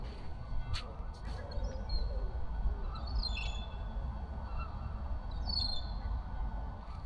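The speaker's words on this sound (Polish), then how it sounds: "te mewy tak się dziwnie nawołują" Distant gulls give a few squawking calls over a low, rumbling background of wind or traffic.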